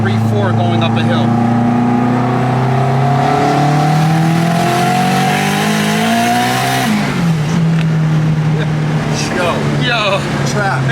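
An Integra GS-R with AWD conversion and turbo, boost turned down, accelerates hard uphill. The engine drones loudly and rises in pitch through the gears, with a shift near the middle and turbo whooshes, plus voices talking over it.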